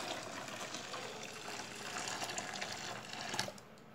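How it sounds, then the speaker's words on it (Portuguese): Boiling water poured into an old two-litre pot while making liquid laundry soap, a soft steady hissing trickle that runs for several seconds and then stops. "ela pode acrescentar água fervendo, que eu vou colocar aqui"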